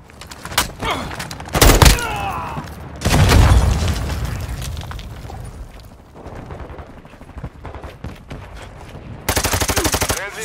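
Machine gun fire and explosions in the Call of Duty Modern Warfare 2 video game, with loud bursts and booms coming in waves across a chaotic battlefield mix.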